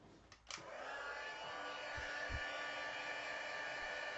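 A heat tool for embossing switches on after a couple of soft clicks and blows a constant, even whir as it melts embossing powder on Velveteen paper, close and alone.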